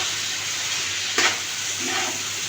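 Salt is stirred into potatoes frying in a pan, with a soft, steady sizzle and a brief scrape of the spoon partway through. The sound is fairly quiet and close, with no talking.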